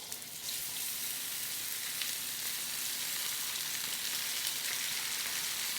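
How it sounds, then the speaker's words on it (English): Frozen peas and carrots frying in about two tablespoons of sesame oil in a pan, a steady, bright sizzle that holds evenly throughout without pause. "We're going to add some more sesame oil, about 2 tablespoons now. Just enough to cover the bottom there. And then to that, going to add our peas and carrots."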